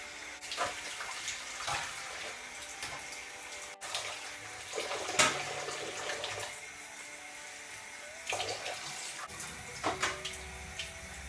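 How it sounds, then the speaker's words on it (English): Tap water runs into a plastic tub while raw beef is rinsed in it, a steady splashing rush with louder surges and sloshing as the meat is moved around. No voices. "rinse all the blood off it before I stick it into the slow cooker. So I just use a plastic tub to help with that"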